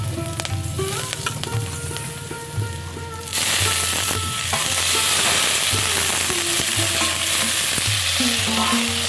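Nettle leaves hit hot oil in a pan and erupt into a loud, steady sizzle partway through, continuing as a dense frying crackle with faint clinks of stirring.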